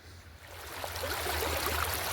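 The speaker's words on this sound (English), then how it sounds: "The water's a little noisy." Stream water running steadily through a gold prospecting sluice outdoors, a continuous broadband rushing and gurgling that builds slightly and stays close and fairly loud throughout.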